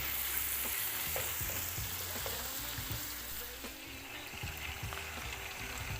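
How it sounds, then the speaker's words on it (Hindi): Ground masala and chicken are being fried on a low flame for a Chicken Nihari, giving a steady sizzle with frequent scraping stir strokes close by, with no voices. "हमने फ्लेम को लो रखना है और 2 मिनट के लिए हम इसको भुनेंगे"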